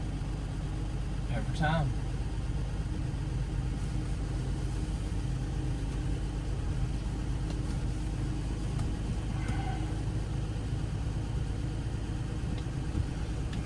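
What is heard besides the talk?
Plymouth Belvedere engine cold start and idling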